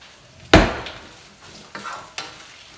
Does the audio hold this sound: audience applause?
no